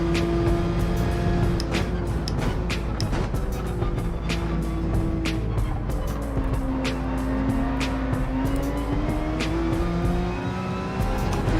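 Race car in Gran Turismo 7 with tires locking up under braking, steady engine drone and tire noise throughout, loud and continuous with shifting engine tones.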